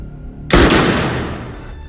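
A single loud gunshot from the film John Wick 4, a sharp close crack that rings out and decays over about a second, with no talk.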